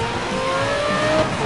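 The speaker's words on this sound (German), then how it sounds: "Bisschen driften kann auch nicht schaden." A car drifts in the racing game Need for Speed Most Wanted, its engine droning loud and steady at speed as a thin tire squeal rises and fades through the slide.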